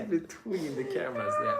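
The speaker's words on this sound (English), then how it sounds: "that was the cat again" A house cat meows indoors, its short calls rising among nearby conversation that continues over and around it.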